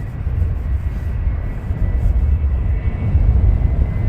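Ryanair airliner on approach into Luton Airport, a steady broad low rumble of jet engines holding at constant moderate loudness throughout, no voices.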